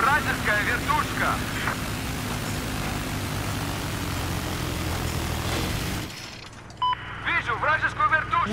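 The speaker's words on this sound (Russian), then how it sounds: "Обнаружена вражеская вертушка." An enemy helicopter in Battlefield 4 gives a loud sustained rotor and engine drone for about six seconds, then cuts off abruptly, followed by a softer hum with game chatter voices over it.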